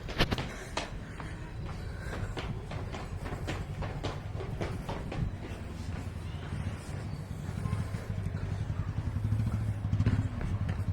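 A motorbike engine idles and runs in Hubli, a low continuous rumble with rattling clatter and a swell of revving near the end, heard close with faint background sounds.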